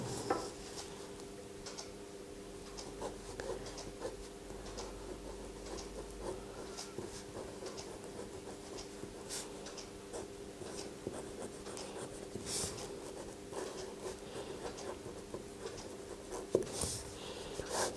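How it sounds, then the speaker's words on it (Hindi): A Pilot White Tiger fountain pen writes on paper with quiet, continuous scratchy strokes and small taps, close up and unaccompanied by speech. "तो चलिए पहले देख लेते हैं ये लिखता कैसा है।"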